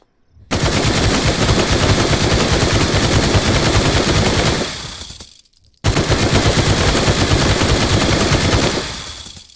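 Automatic gunfire in the survival game Night of the Dead: two long, loud, continuous bursts of rapid fire, each several seconds long and fading out at the end, separated by a brief pause.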